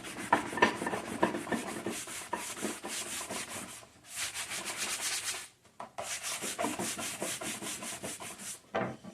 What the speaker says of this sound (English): We're going to go ahead and start sanding this down.